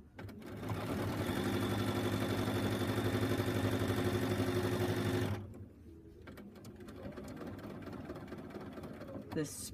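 A sewing machine stitches steadily during ruler work quilting with a Westalee starter set, a close, even motor whir with rapid needle rhythm that runs for about five seconds, then stops, leaving quieter handling noises.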